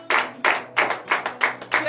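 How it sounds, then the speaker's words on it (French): A congregation at a morning prayer service in Benin claps loudly in strong, regular bursts, roughly three sharp waves of many hands per second, with no voices over it. "Donnez de vive acclamation à l'Éternel"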